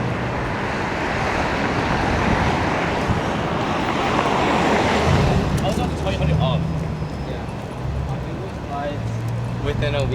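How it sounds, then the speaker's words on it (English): Strong, blustery wind sweeps along a downtown street in winter, Spadina Avenue in Toronto at about -1°C in January, roaring steadily and loudly across the mic with gusting rumble, faint traffic-like hum and some speech underneath. "The wind has picked up quite a bit."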